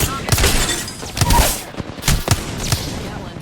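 Gunfire in the Apex Legends video game, several bursts of shots and impacts in uneven clusters, fairly loud and mixed with voices.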